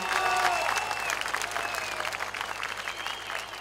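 A farmers' rally crowd claps together in a sustained, moderately distant burst, with faint shouts and a whistle-like tone riding over the dense applause.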